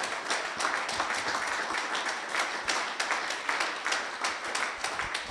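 A church congregation claps together in praise, a steady dense patter of many hands at moderate level lasting several seconds, with no speech over it.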